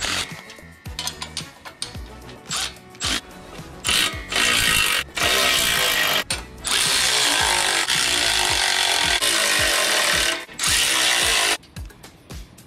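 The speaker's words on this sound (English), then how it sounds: "So we're gonna go through and tighten those up." A ratchet tightening bolts on the frame of a JY Performance PWC dolly, loud close rapid clicking strokes in bursts, some long sustained runs broken by short pauses, with no talk.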